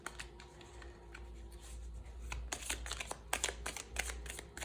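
Tarot cards being shuffled by hand, close and quiet, a run of soft papery riffles and flicks that grow busier toward the end over a low room hum.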